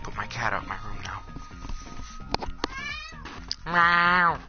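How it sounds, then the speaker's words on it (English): A cat meows at a door: several short meows early on, then a long, loud drawn-out meow near the end, with soft whispered talk in between. "He was meowing at the door"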